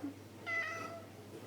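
A house cat meows once, a short clear mid-pitched meow asking for water, heard close up against a quiet room.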